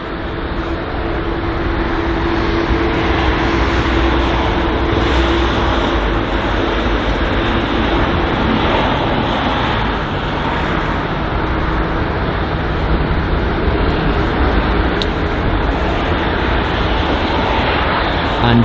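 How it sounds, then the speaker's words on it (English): A Lufthansa A320neo taxis at London Heathrow airport, producing a steady, loud broadband jet roar that holds at a constant level throughout with no clear peaks. "So the Lufthansa A320neo on the move there, most likely headed to Frankfurt or Munich"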